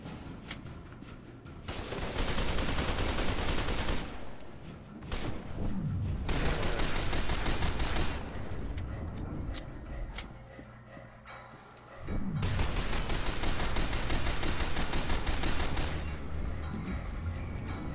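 Sustained automatic gunfire and explosions fill a firefight in FEAR 2, with dense rattling bursts, booming impacts and brief lulls between long loud volleys.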